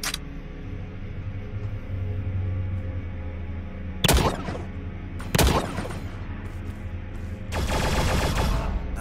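Gunfire from a weapon in The Signal From Tölva plays over a steady game ambience. Two sharp, loud single shots are followed by a longer burst of rapid fire near the end.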